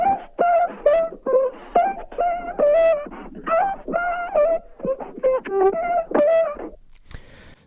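A vocal chop run through Ableton's Saturator and EQ plays as a choppy melodic phrase of short pitched syllables, bright and gritty with distortion, ending in a brief noisy burst, up front and alone.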